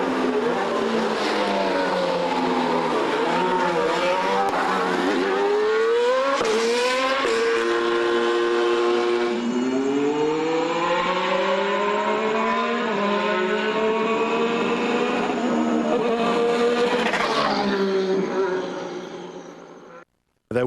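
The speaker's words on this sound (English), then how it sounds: "What we did hear was a lot of strange sort of revving sounds and energy recovery systems at play" A high-pitched 2014 Formula One turbo engine with energy recovery systems revs up and down continuously for about twenty seconds, whining through rising and falling pitch sweeps before cutting off abruptly.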